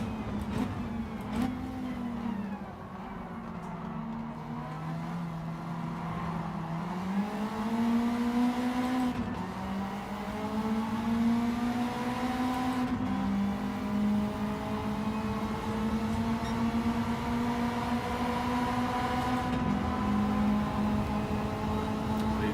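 A race car engine in the Gran Turismo 7 video game hums and revs at a steady, sustained pitch, rising and dipping slightly as it runs at a moderate level with no talk.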